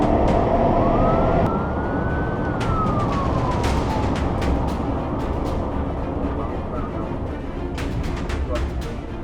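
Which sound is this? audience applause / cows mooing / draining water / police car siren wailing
police car siren wailing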